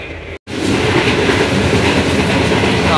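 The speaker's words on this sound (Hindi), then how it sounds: "बहुत ही ज़बरदस्त स्पीड से ट्रेन आगे की तरफ रवा दवा है" The Shalimar Express rushes fast along the rails, loud steady rattling and clickety-clack of wheels heard from inside the carriage, after a brief dropout near the start.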